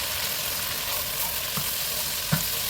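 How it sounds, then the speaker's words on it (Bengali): Ground garam masala and cumin frying in a pan for thin khichuri, with a steady soft sizzle and occasional stirring scrapes, one sharper clink near the end. "দিয়ে এখন মশলাটাকে আবারও একটু কষিয়ে নেব"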